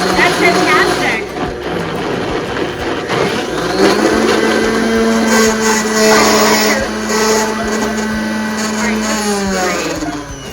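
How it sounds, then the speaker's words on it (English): A kitchen blender whirs loudly, mixing chocolate mousse ingredients including powder, with a steady motor drone that shifts in pitch as the mix thickens. People talk over it. "this in the blender and we are going to blend"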